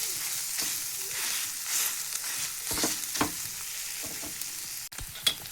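An egg fries and gets stirred in a pan, with a steady soft sizzle under intermittent scraping strokes of a utensil, close and moderately quiet, ending with a sharp clack.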